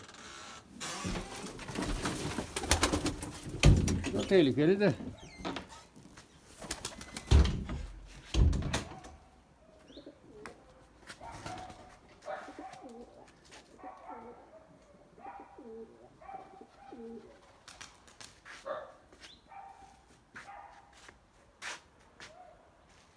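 Tumbler pigeons coo softly amid bursts of wing flapping and rustling near the start, with a brief spoken remark and scattered clicks afterward.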